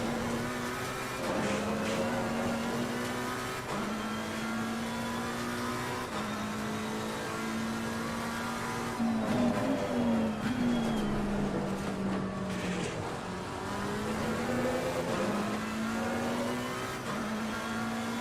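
A McLaren 720S lapping Imola in Assetto Corsa Competizione, its engine droning steadily close up with shifting pitch through gear changes and a brief rise in revs midway, continuous throughout with no talk.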